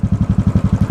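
Royal Enfield Continental GT motorcycle fitted with an aftermarket exhaust, idling close by with a steady, deep thumping pulse of about eleven even beats in a second, loud and with no voices.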